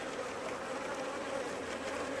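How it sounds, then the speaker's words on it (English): Honey bees working on hive frames during a summer hive inspection give a steady, dense buzzing drone that continues evenly throughout at a moderate, close level, with no voices. "there's a lot of bees working at those frames"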